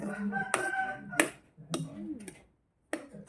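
A rooster crows with a drawn-out tonal call, then a few sharp clicking knocks and short rustles follow, fairly close and clear with no talking.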